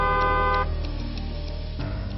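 A loud, sustained vehicle horn blares as a steady tone, drops and changes pitch partway through, then sounds again near the end, with no speech.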